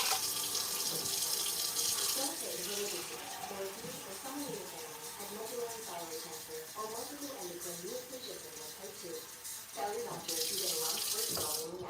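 Tap water pours steadily into a pot as six cups are measured out, a continuous hissing, gurgling stream with shifting bubbling tones and a brief lull near the end.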